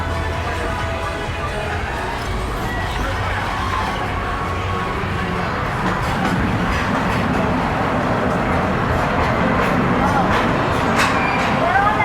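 The Walt Disney World Railroad train rolls along with a continuous rumbling, rattling clatter of wheels and carriages, steady and close throughout, with faint squeals rising near the end.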